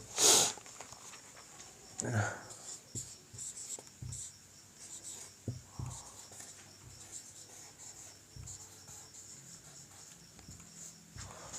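Pen scratching out letters on paper, close and light, a series of short scribbling strokes heard under a person's ongoing talk.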